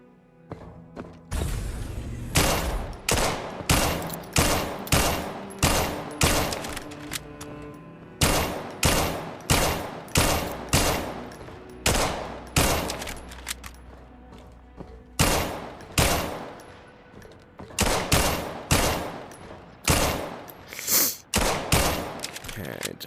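Glock 17 pistol fired repeatedly in the VR shooter Vail on a kill-house course, sharp close shots in quick bursts of several with short pauses between groups, continuing throughout.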